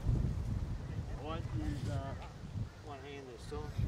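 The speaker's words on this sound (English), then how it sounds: "It's a bit blowy." Gusty wind buffets the microphone on an open golf course, a steady low rumble running underneath as people talk throughout.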